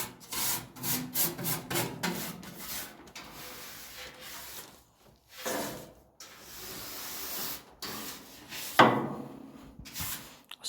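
Stiff brush strokes scrub rust eater into the corners of a classic Mini pickup under restoration, with irregular bursts of scratchy rubbing, pauses between them and a sharper scrape near the end, all close and fairly quiet.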